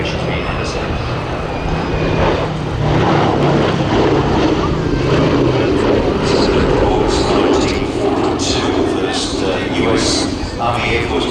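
Boeing B-17G Flying Fortress Sally B, a four-engine propeller bomber, droning steadily at the Midlands Air Festival, loud and continuous with a public-address commentator talking over it throughout.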